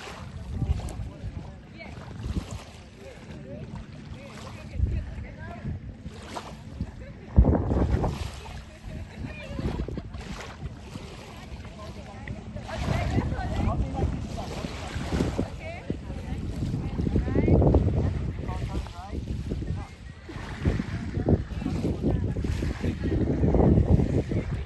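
Paddling a small boat off a beach island in Bahrain, with water sloshing and splashing along the hull amid steady wind noise, a sharp knock partway through, and voices talking intermittently.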